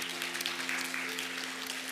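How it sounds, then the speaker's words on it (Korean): Encouraging applause from a church congregation at a Sunday service in Bellevue, a steady broad wash of clapping held evenly throughout, moderately distant, with a faint sustained tone underneath. "다시 한번 격려의 박수 부탁드리겠습니다"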